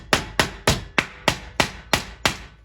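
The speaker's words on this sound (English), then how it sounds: "hammering it down so it'll lay flat enough" Eight evenly spaced hammer blows strike an old 1860s floorboard to flatten it, each a sharp, loud, close knock with a short decay.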